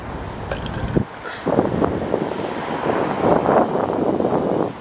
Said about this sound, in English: it's windy too, so I don't even know if y'all gonna hear us